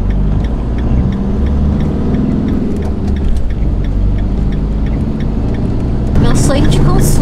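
Car engine running steadily at close range as the car pulls away from a roadside shoulder in Sardinia, Italy, just after rain, with a low continuous hum and slight revving throughout.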